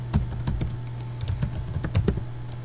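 Quick, uneven clicks of typing on a computer keyboard while registration details are entered into an online form, close and clear with no talk, over a steady low hum.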